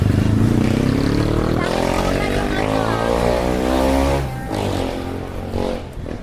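Motorcycles rev loudly on a street, their engine pitch climbing steadily for a couple of seconds, then holding a strong droning roar before it eases and fades toward the end.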